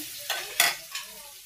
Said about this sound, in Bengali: এই জন্য আলুটি ভাজে নিচ্ছি।